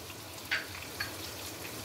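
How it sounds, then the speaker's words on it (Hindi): A little water goes into a frying pan of sautéed tomato with garlic-ginger paste, giving two quick splashy bursts above a constant low sizzle. "थोड़ा सा पानी ऐड कर दें।"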